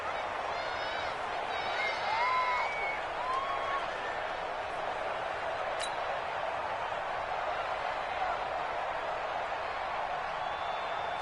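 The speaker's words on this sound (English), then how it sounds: "the crowd getting into it as we come up on a big third down" A football stadium crowd roars in a steady, broad wash of cheering that fills the whole stretch, with a few whistles rising above the din early on and no clear talk on top.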